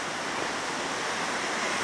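A waterfall near Santuario de Las Lajas in Colombia rushes down to a river, a loud, dense and continuous roar of water with no pauses or voices.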